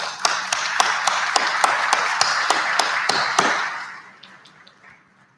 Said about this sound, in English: if we can get a round of applause for the great work they've done this year